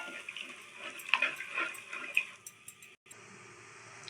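A short pour of white jaggery syrup into a pan of coconut roasted in ghee for aval ladoo, giving a close, liquid splashing gush that thins out and stops after a few seconds.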